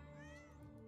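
Cat meowing in a Wild West video game, a single short, fairly faint mew heard alone over a steady background hum.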